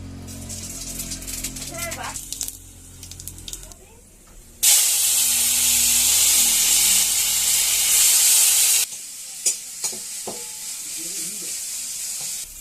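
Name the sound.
five-spice tempering sizzling in hot oil in a wok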